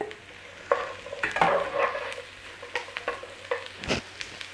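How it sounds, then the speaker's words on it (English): Onions, garlic and celery sauté in a pan with a soft continuous sizzle, broken by irregular scraping and stirring clatters from a utensil, close and moderately loud, with no voices. "Nice little saute on there. In with that celery."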